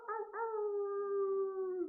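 Person imitating a wolf howl: a single long, smooth falling tone after a brief broken start, sustained for nearly two seconds, close and clear with no other sounds.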